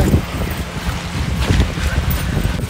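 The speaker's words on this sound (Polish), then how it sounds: "Stoję, wiatr mnie sam przesuwa, nie?" Strong wind near Nordkapp, Norway, buffets the microphone in a constant rough roar, with gusty rumbling throughout.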